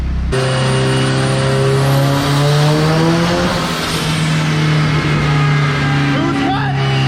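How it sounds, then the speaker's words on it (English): Nissan SR20-powered roadster engine revving hard under load in fourth gear, a loud sustained harmonic drone climbing in pitch before the boost cut stutters it, with people talking over it. "It hit the boost cut right there."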